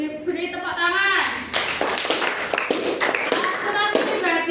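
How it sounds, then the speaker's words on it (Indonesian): A sixth-grade class claps along in a lively burst while children's voices and talking run over the top, the clapping close and steady through most of the moment. "Diberi tepuk tangan."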